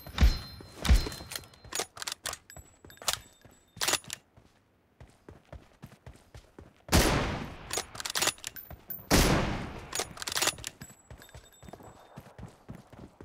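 Gunfire in a team shooter video game: sharp, sporadic shots and short bursts, loud and close, separated by brief quiet gaps, with faint voice callouts.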